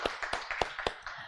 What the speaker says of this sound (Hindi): चलो, मैं चाहती हूँ एक बार आप क्लैप कर लो.